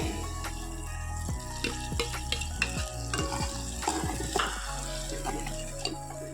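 Ground tomato fries in a pan for rasam, giving a soft sizzle over a steady background hum, with a series of sharp spoon-against-pan knocks and scrapes as it is stirred.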